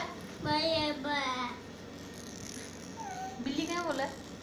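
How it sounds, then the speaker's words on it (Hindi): Two quick meows, then a pause and a third drawn-out meow, close and fairly loud in a quiet room. "बिल्ली क्या बोला?"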